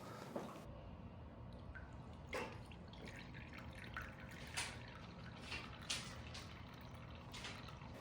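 Hot water is poured into a baking pan around ramekins, a faint steady trickle with scattered drips and small splashes close by, heard alone.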